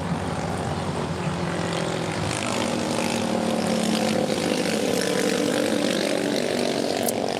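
An Aeromexico jet in Pride livery arrives at LAX from Mexico City, a loud, continuous engine roar and broadband rush that holds steady as the aircraft passes close by.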